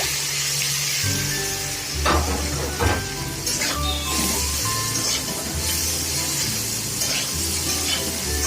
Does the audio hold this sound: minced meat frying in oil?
yes